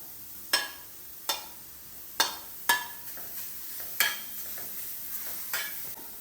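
Beetroot sizzles softly as it roasts in a hot pan on a gas stove while a utensil scrapes and taps the metal in irregular sharp strokes, close by.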